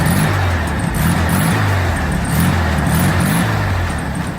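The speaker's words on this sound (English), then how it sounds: "The classic Volkswagen sound." Classic rear-engine Volkswagen idling and running, a steady low rumble with a rhythmic air-cooled throb, close and loud throughout with no talk.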